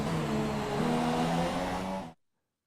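Formula racing cars in the F1 2017 game at Monaco's Nouvelle chicane, a steady droning engine with shifting pitch that cuts off abruptly after about two seconds, loud and close with no talk.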